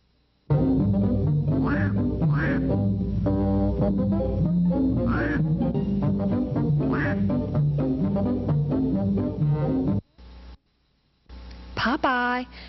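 Cartoon duck quacks from a Popeye Sinbad cartoon, a rapid string of loud nasal quacks over lively music, then a break and a final quack burst near the end.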